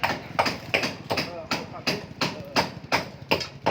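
Hammering on cement to set a pillar during renovation of an old house, heard as a steady rhythm of repeated thuds about three per second, with someone talking over the blows throughout.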